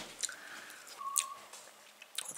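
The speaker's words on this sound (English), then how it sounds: "having a nice little whistle to himself in the kitchen" A man whistles to himself in a home kitchen, producing a few faint, wavering tonal notes at a moderate distance amid light kitchen clatter and rustling, with no talking.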